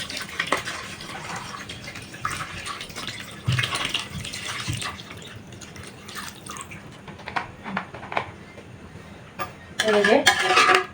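Water poured into a rice cooker pot over eggs, with splashing and trickling plus metallic pot clinks, a louder burst of pouring near the end, close and without speech.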